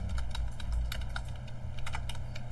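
Fingers type on a computer keyboard in a quick, uneven run of soft clicking keystrokes, fairly quiet and close, with no talking.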